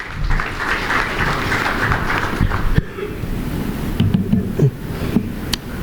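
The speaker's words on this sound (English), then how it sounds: "With a huge round of applause, ladies and gentlemen, let's welcome Mr." Steady applause from a conference audience welcomes a speaker onto the stage at a business summit and awards event, a dense wash of clapping that fades after a few seconds.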